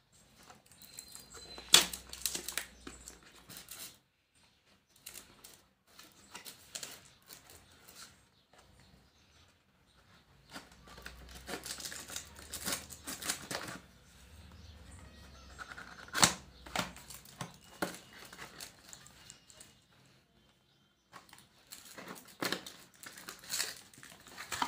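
Motorola wireless over-ear headphones being unboxed, with faint, intermittent crinkling and rustling of packaging, soft snaps and tearing bits in scattered bursts separated by quiet gaps.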